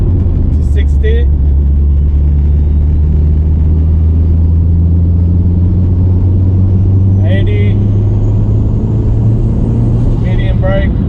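A Mitsubishi Evo 8 car brakes from 80 to 60 km/h: a steady, loud low engine and road rumble that shifts gently in pitch, with brief talking over it at the start and near the end.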